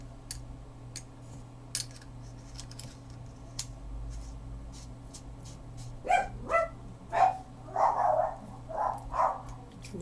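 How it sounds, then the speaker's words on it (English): Neighborhood dogs barking, a run of several sharp barks in the final seconds, fairly close, after quiet clicking and light tapping sounds earlier. "Neighborhood dogs start barking, they do too."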